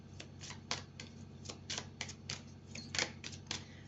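Oracle cards being shuffled and drawn close by, a quick run of crisp flicks and snaps in an uneven rhythm, fairly quiet and with no talking.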